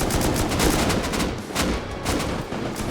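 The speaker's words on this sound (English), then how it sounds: "Crazy amounts of AK fire" Heavy AK rifle fire in a Rust base raid, dense rapid bursts of overlapping shots in a continuous fusillade, loud and without pause.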